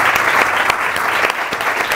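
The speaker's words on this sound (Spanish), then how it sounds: "Le damos un aplauso a nuestro distinguido." An audience gives a distinguished alumnus a loud, close round of applause, dense continuous clapping that fills the whole moment.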